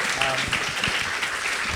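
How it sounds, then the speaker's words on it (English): An audience at a talk applauds, a dense wash of clapping that holds steady for a couple of seconds while a voice speaks over it. "I think our hosts deserve a bit of a hand of some applause here for some great work"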